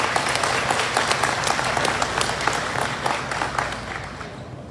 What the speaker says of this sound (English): So I really want to give everybody a round of applause for that, for the associates in the store.